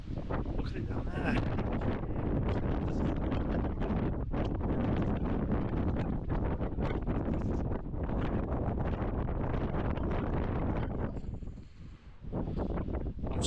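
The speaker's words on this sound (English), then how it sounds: "So windy." Strong gale-force wind buffets a microphone at a coastal campsite, a continuous heavy roar with rumbling gusts that eases briefly near the end before surging back.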